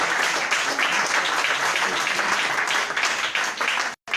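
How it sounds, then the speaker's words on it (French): Loud, sustained applause from a large church congregation, dense clapping continuing steadily for several seconds before briefly cutting off near the end. "Applaudissez encore très fort."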